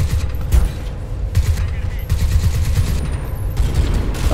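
Gunfire from the shooter game Crysis 2 in a continuous loud rattle of repeated bursts over a heavy low rumble, running for the whole stretch with no pauses and nobody speaking.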